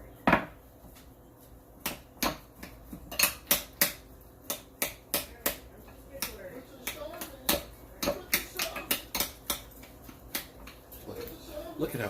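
A knife chops food on a cutting board for a keto taco bowl, a run of sharp, close knocks in an uneven rhythm, some quick and clustered, some spaced apart.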